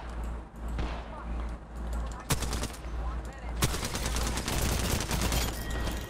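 Rapid bursts of Apex Legends gunfire crackle over a dense, steady background of game noise, with sharp shots standing out now and then.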